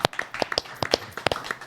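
A few people clap in a loose, uneven rhythm, producing distinct, close hand claps in a brief scattered burst rather than a full crowd ovation.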